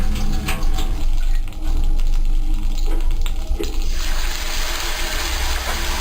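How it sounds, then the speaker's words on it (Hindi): A few drops of water poured into a pot of sugar and ghee with cloves and cardamom for sweet zarda rice, a brief close splash and trickle over steady kitchen background noise. "इसमें चंद कतरे पानी के डालूंगी"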